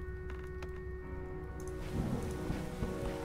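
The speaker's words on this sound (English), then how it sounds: "I hear rain." Rain in the game Starbound, a dense steady patter of drops on surfaces that thickens and grows louder partway through, heard alone.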